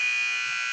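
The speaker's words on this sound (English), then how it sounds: "There's the buzzer." A single steady electronic buzzer sounds at a high school volleyball tournament match between Vinton County and Oak Hill: a loud, continuous, harsh tone lasting under a second with no voices over it.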